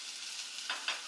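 Ingredients for oats dosa sauté in a pan, a faint steady sizzle with two soft stirring scrapes near the end, no voices.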